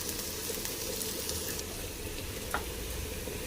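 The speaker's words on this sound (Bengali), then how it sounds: "পেঁয়াজটা লাল করে ভেজে নেব" Onion, garlic and ginger sizzle steadily in hot oil in a pan, a continuous close frying hiss with a faint clink near the end and no talking.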